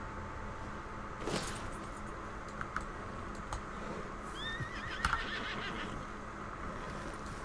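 A horse whinnies in the middle distance in Red Dead Redemption 2, over steady background noise, with a few sharp clicks and thuds scattered around it.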